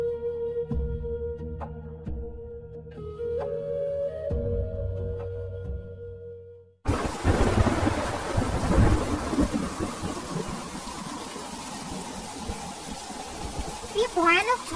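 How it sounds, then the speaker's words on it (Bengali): A violent Kalbaisakhi thunderstorm with heavy rain breaks in abruptly after a quiet musical passage: a dense, loud roar of rain with deep rumbling thunder that keeps going to the end. "কি ভয়ানক ঝড় উঠেছে"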